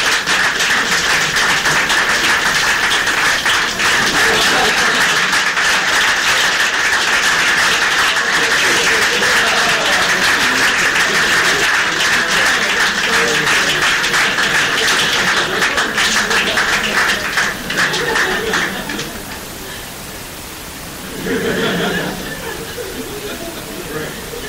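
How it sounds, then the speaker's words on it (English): Applause from an audience at a Bnei Akiva UK Limmud gathering, steady and dense for about nineteen seconds before thinning out, with a brief swell near the end. "Please join me in a round of applause for everybody."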